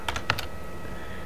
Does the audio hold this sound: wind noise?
no